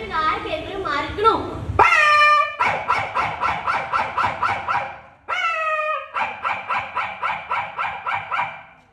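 A mimicry performer on a competition stage imitates street dogs barking, first with a whining, yelping lead-in, then two long runs of rapid, evenly spaced barks, loud and close through a microphone.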